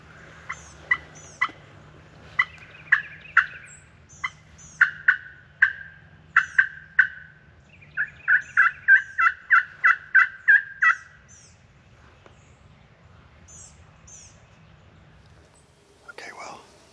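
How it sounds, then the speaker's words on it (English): A wild turkey gobbles repeatedly in a field not far off, a run of sharp rattling bursts coming in quick succession, while people whisper quietly nearby and then fall silent. "we did get a bird to gobble. He's not terribly far. He's in this field behind us."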